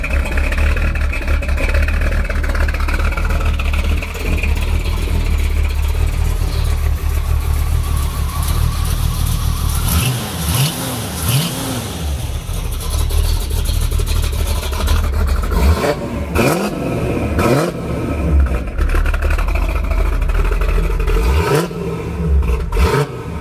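A 1977 Pontiac Firebird Trans Am V8 idles with a deep, loud rumble, then is blipped through several sharp revs that swell and drop back, close up with no talk.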